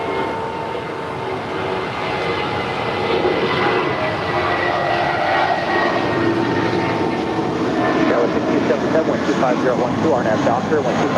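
Airliner jet engines roaring on the runway at LAX during takeoff, a loud steady rising whine and rumble, with radio chatter and talking over it.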